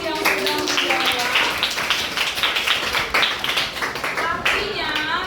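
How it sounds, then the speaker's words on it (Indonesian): A classroom of students claps for classmates who answered a question in a lesson on observation report texts, a steady rattle of hand claps with voices chattering over it throughout. "tepuk tangan untuk teman-teman yang sudah menjawab"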